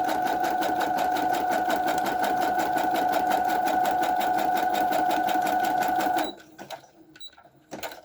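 A sewing machine stitches around a book page pocket for a junk journal, its needle running in a fast, even, continuous rhythm for about six seconds before stopping, followed by faint handling sounds.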